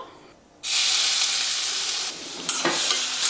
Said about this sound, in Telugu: నూనె కాగిన తర్వాత సన్నగా కట్ చేసుకున్న ఈ ఉల్లిపాయని మంచిగా పచ్చివాసన పోయే వరకు వేయించుకోవాలి